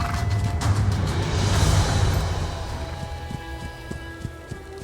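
Mongol horses galloping in the video game Age of Empires IV, a rumbling rush of hooves that swells, then thins into sparse, separate thuds as the herd passes.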